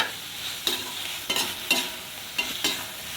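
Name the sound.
potatoes being stirred and fried in gravy in a pan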